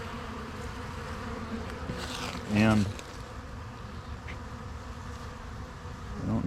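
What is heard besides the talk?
bees buzzing around a hive entrance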